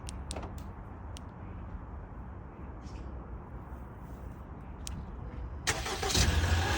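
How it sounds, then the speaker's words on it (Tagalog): A car engine starts near the end after a stretch of steady low rumble, with a few sharp clicks and knocks beforehand as the car is readied for the drive to a game in Canada. "Ito nga pala yung sasakyan natin"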